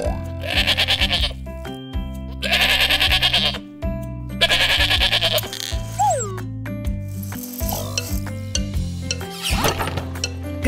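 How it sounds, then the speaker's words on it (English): Repeated loud, quavering sheep bleats come in several bursts over a bright, bouncy children's song backing, with the calls clearly up front in the mix. "Sheep."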